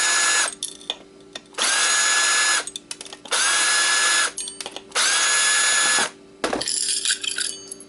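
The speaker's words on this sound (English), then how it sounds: "let's get this platter opened, which should be easy because it's only screwed down by screws" Power screwdriver backing screws out of an Xbox hard drive platter assembly, three sustained whirring bursts about a second long each, separated by short pauses and faint clicks, close and loud with no talking.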